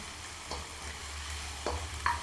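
Sliced onions fry in a pan toward a light golden brown, giving a steady, close sizzling hiss broken by a few soft clicks from stirring. No one speaks.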